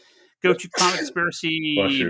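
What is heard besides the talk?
sneeze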